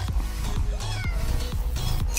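A cat meows repeatedly, several short close meows in quick succession, loud and clear with no talking.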